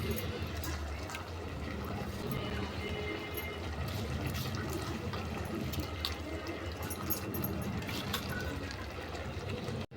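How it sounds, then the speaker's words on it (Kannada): Water is poured over soaked rice for jeera rice, a steady splashing pour that runs for several seconds at moderate level and fades out at the very end. "ಈಗ ಎರಡು ಗ್ಲಾಸ್ ನೀರು ಹಾಕೊಂಡಿದ್ದೆ"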